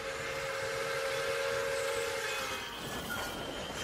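A passenger train rolls past in an audio drama, its steady rumble and clatter joined by a sustained whistle tone that fades as the train moves off.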